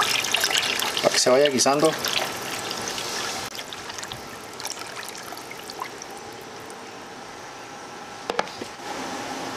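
Blended red salsa for chicharron is poured into a pot, a soft liquid trickle and splash heard up close beneath a person speaking, fading to quieter kitchen sounds.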